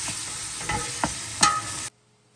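Meat browning in a pan for Ukrainian beet borscht gives a steady, close sizzle, broken by a few scraping stirs before it stops abruptly into silence.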